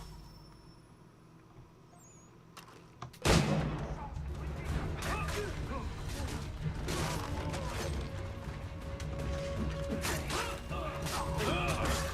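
Video game shootout gunfire: sharp bursts of shots set off by one loud crack, then a dense, continuous clatter of firing and mechanical noise that stays loud to the end.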